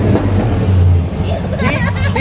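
A 1989 Pontiac Trans Am GTA engine revs in short bursts as a child presses the gas pedal, a loud, close, rumbling roar with low, steady tones rising and falling, while people talk nearby.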